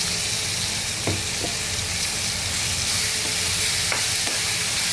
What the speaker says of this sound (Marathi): आता आपण यात पालक टाकून पिसून घेतलेले